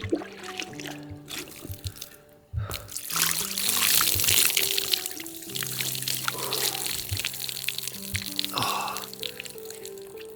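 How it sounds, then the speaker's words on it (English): Water pours steadily in a shower, splashing and trickling at moderate volume, with its flow shifting as something moves through the stream. "As long as the water is pouring on your body, it's actually quite fine."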